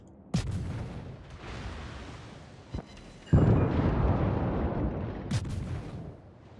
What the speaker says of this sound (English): Fear the might of the Japanese Navy's guns.